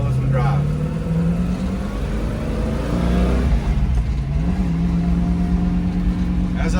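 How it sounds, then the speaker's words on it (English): A candy apple red 1967 Shelby GT350 with a four-speed manual drives down the road, its engine droning steadily and rising in pitch through the gears, loud and continuous from inside the car. "Taking her down the road, show you guys just how well this one drives."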